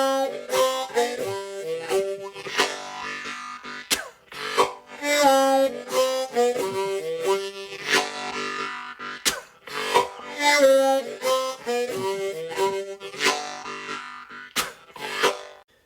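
Slow harmonica groove, played as a lesson demo: rhythmic breathy chords pulsing in a steady repeating pattern, close and moderately loud with no talking.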